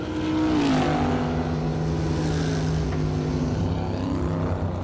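Drag racing car at a bracket race spinning its tires off the line, a loud continuous engine roar with pitch rising and dipping as revs flare, heard from near the strip.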